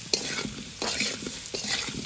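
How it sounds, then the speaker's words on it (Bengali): Spices with salt and turmeric fry in a pan, a soft sizzle broken by three quick stirring strokes with a utensil, fairly quiet and close. "এবার আর একটু ভেজে নেবো।"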